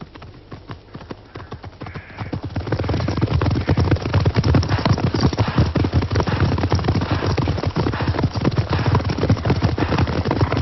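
Racehorses gallop during a race, their hooves pounding in a rapid, steady clip-clop rhythm that swells louder after a couple of seconds and stays close and continuous.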